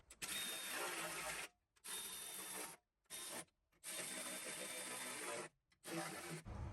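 A power tool drives 13 mm skid plate bolts on a 100 Series Toyota Land Cruiser, whirring loudly in five bursts of about one to two seconds each, separated by short silent gaps, with no talking.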